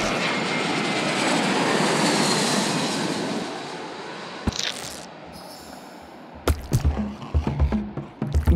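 Airplane engine roaring after takeoff in the game Genital Jousting, a loud broad drone that fades over several seconds before a sharp thump and a run of irregular squishy knocks, no talking.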